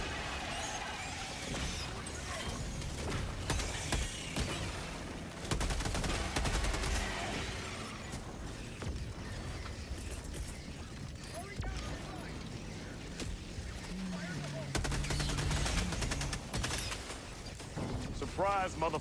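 Rapid rifle gunfire from a Liberator Penetrator in a video game, loud repeated bursts and sharp crashes layered with game effects, some bursts dense like a fusillade, a voice talking intermittently over the action.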